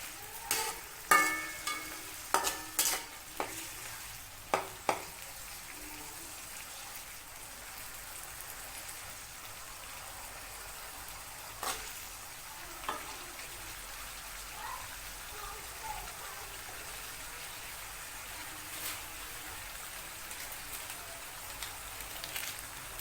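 A little water poured into a sizzling straw mushroom stir-fry, a few sharp spattering bursts early on, then a steady soft simmering hiss from close by, with no talk.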